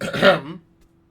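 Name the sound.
cough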